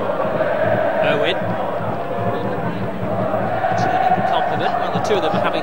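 Football stadium crowd at the 1999 Intercontinental Cup match between Manchester United and Palmeiras: a dense, steady roar of fans rises with cheers, and a commentator talks over it.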